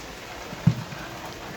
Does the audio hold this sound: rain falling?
yes